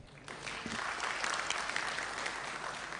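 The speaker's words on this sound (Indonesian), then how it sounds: "Boleh tepuk tangan dong." Applause breaking out in a parliamentary meeting room, a dense burst of clapping from many hands that swells quickly and holds steady for a few seconds, no speech over it.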